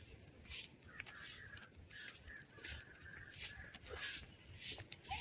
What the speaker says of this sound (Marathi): इथं पक्ष्यांचा गिलगिलाटचा आवाज येते